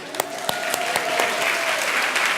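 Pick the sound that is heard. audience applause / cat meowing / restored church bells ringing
audience applause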